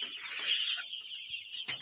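Broiler chickens cluck in a poultry shed, a steady run of close, fairly loud clucking and murmuring calls that rises into a sharper squawk near the end, with no talking.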